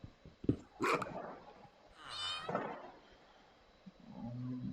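A Minecraft dog barks a few times in short bursts, followed by a drawn-out growling roar, with a low electronic hum near the end.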